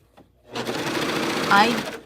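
A Bernette B68 air-threaded serger/coverstitch machine sews a fabric sample, starting after a short quiet moment and running steadily at high speed for about a second and a half with a slight rise near the end.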